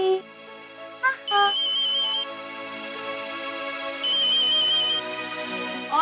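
A phone ringtone plays a repeating electronic melody, fairly loud and close, pausing briefly between phrases, with a voice speaking underneath.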